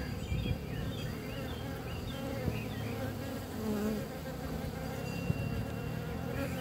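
Honeybees in a divisible beehive drone in a steady, dense buzz close to the listener, with individual bees whining past now and then.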